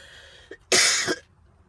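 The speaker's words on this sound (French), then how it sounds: "Avec l'air froid, je tousse." A single harsh cough in cold outdoor air bursts out after a brief throat noise, close and loud, with no talking around it.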